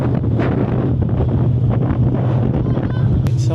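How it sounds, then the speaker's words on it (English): Strong wind on a cold ferry crossing of Puget Sound, a loud steady roar buffeting the microphone with the low rumble of the boat beneath and brief faint sounds near the end. "It's also incredibly windy and freezing cold at this time of year."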